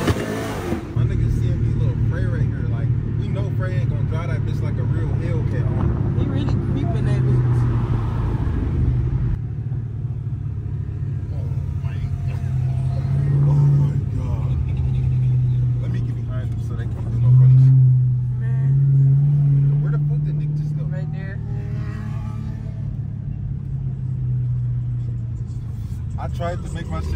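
A car, apparently a Hellcat, does a burnout on a street, producing a loud, sustained low engine roar with revving swells that rises and falls over nearly half a minute, while people talk throughout.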